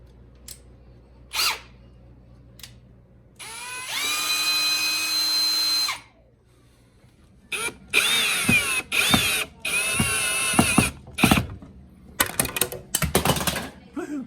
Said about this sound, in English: I'm going to drill my pilot hole